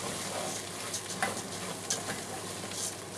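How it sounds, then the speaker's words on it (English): Short-grain rice and pancetta being stirred in a pot for pumpkin risotto, a soft continuous sizzle with occasional light scrapes and taps of the spoon. "Mix all that pancetta through it."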